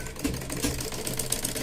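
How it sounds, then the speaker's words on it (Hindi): A sewing machine stitches a blouse lining, its needle running in a fast, steady mechanical whir with rhythmic clatter, close and continuous throughout. "ये मैंने सिलाई ऑलमोस्ट मेरी पूरी हो गई है"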